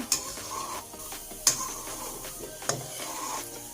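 A Thai steamed egg mixture is stirred steadily in a pan over medium heat with no oil, the spoon scraping continuously up close with a few sharp knocks and a faint sizzle underneath.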